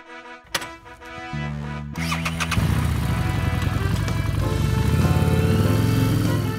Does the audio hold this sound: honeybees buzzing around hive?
no